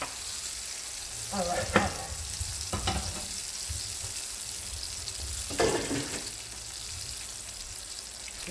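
Vegan onions fry in a pan with a steady, soft sizzle and hiss, broken by a few short stirring scrapes, fairly quiet, with a voice speaking briefly.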